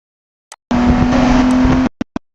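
Champcar endurance race car at Watkins Glen recorded onboard, a loud engine drone with a steady whine holding for about a second, then cutting off, with a few short sharp clicks around it.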